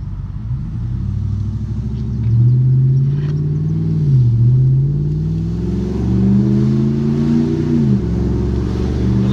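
A RAM 1500 pickup fitted with an aftermarket cam and a higher-stall torque converter pulls away from a stop, its engine rumbling loud and close with a lopey idle, then rising through revs with smooth shifts.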